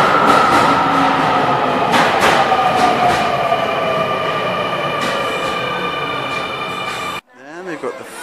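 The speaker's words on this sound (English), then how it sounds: "We're on the Shinjuku line of the Tokyo Metro." A Tokyo Metro Shinjuku line subway train rolls close by with a loud, steady rumble, rhythmic wheel clatter and high metallic squealing tones; the noise cuts off abruptly near the end, followed briefly by a nearby voice.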